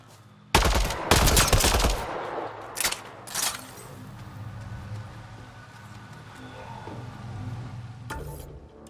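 Gunfire in the video game Mass Effect Andromeda: loud bursts of rapid automatic shots near the start, a few sharper single shots after, then quieter ambient battle noise with another burst at the end.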